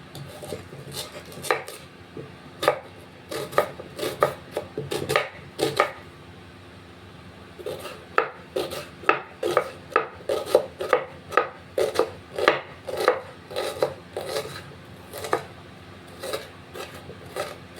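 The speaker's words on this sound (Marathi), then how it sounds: "बनवण्यासाठी सर्वात पहिले एक कांदा कट करून घ्यायचा" An onion is chopped with a knife on a board, a run of quick, crisp taps in uneven bursts, close and distinct, with a short pause before a longer, steadier chopping sequence.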